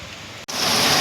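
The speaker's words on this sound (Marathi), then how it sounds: "बघा आमच्या इकडे किती पाऊस पडतोय" Rain pouring at midnight in a rural Maharashtra village, a steady dense hiss of falling drops that cuts out for an instant, then returns louder and fuller.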